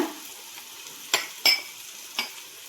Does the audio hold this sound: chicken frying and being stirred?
yes